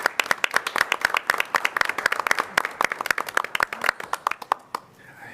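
Audience at an Iowa City city council meeting claps in sharp, dense bursts, building into sustained applause that thins out near the end, with no voices over it.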